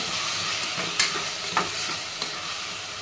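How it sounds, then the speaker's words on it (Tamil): Ginger garlic paste sizzles steadily in a hot pan while a spoon stirs it, with a few sharp scraping clicks against the metal over a constant frying hiss. "இஞ்சி பூண்டு பேஸ்ட்டு போட்ட உடனே நல்லா கிள்ளிட்டே இருங்க, இல்லைன்னா அடி பிடிச்சிருங்க"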